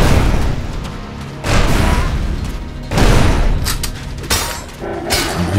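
Gunfire in the video game ELEX lands as heavy, booming shots, about five loud blasts spaced a second or so apart, each trailing off into a rumbling decay.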